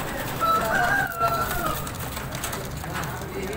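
Sialkoti and Qasoori pigeons coo softly under a dense, noisy background, faint and intermittent rather than prominent.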